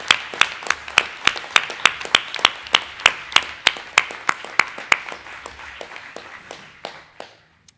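An audience claps at a municipal council installation meeting in Bouaye, a steady rhythm of sharp, evenly spaced claps that gradually thins out and stops near the end.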